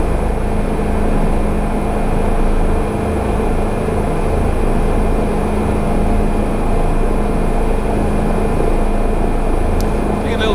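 A Bell 407 helicopter in Microsoft Flight Simulator flies over Bora Bora, a steady, loud droning rotor and turbine hum that holds unbroken throughout.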